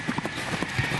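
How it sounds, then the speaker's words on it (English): Horse hooves clip-clop on a street in a quick, uneven run of hoof strikes, close and fairly loud over steady background noise. "Meet Playboy, one lucky horse"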